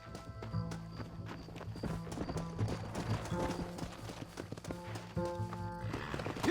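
A horse gallops in a steady, fast hoof rhythm in the Red Dead Redemption video game, with music and other game sounds over it.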